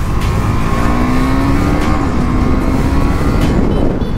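A KTM Duke 390 motorcycle engine, cold after sitting unused for days, revs loudly while warming up, with rising and falling throttle blips over a steady close engine roar.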